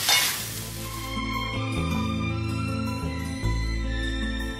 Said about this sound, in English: So now the stir frying process starts.